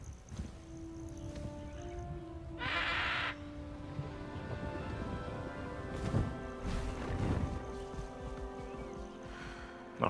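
The hippogriff Highwing in Hogwarts Legacy gives drawn-out, bleating, whinny-like calls with a harmonic, creature-like tone, layered over a low rumbling game ambience with brief breathy bursts.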